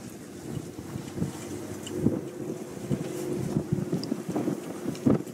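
A sailboat moves under sail at about five knots, with steady wind buffeting the microphone and low rumbling water and hull noise throughout, no voices.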